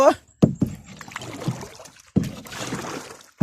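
A wooden paddle rows a boat, dipping and pulling through water in a few strokes, with splashing and swishing, close by and moderately loud.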